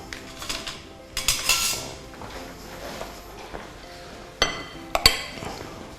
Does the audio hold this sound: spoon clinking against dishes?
yes